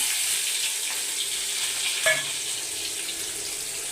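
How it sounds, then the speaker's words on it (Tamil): Onion, garlic and curry leaves frying in hot oil with mustard seeds and fenugreek for a Tamil brinjal tamarind kuzhambu, a dense continuous close sizzle with a brief stirring clatter midway. "அப்புறம் கருவேப்பிலை, வெங்காயம் நல்லா வதக்கட்டும்"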